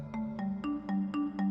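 A phone rings unanswered in a comic Pakistani telefilm, a repeating electronic melodic ringtone of evenly spaced, bright tonal notes, close and alone without talk.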